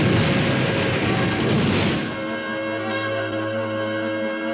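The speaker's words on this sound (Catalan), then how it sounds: "les bateries d'artilleria van bombardejar horrorosament la ciutat" Artillery bombardment as a sound effect for a city under siege: a loud, dense rumble of booming fire for about two seconds, then a ringing, fading tail with no talk.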